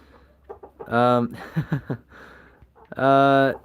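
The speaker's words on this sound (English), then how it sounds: "Bernie's a black copper Moran rooster." A Black Copper Marans rooster makes loud, drawn-out calls twice, with short clucking sounds in between, close to the listener.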